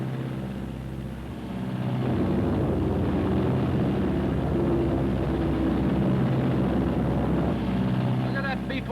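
A Martin B-26 bomber drones nearby with a steady, loud engine roar that swells after a couple of seconds and holds, a continuous propeller rumble filling the scene.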